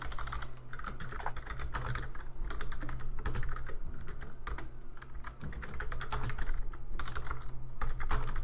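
Fast, continuous typing on a computer keyboard during a Roblox police patrol game, with dense clicking keystrokes close to the microphone and no talking.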